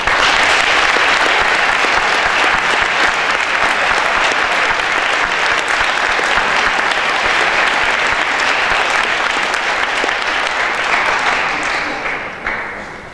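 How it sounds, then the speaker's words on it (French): Warm, sustained applause from an audience at a scholarship award gala, dense and loud throughout, tapering off in the final seconds. "Je crois qu'ils méritent de chaleureux applaudissements."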